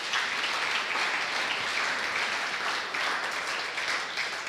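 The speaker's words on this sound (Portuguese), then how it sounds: "Você pode aplaudir o Senhor mais uma vez?" Applause from a church congregation worshipping in Portuguese, steady dense clapping filling the room throughout the clip at moderate level with no talk.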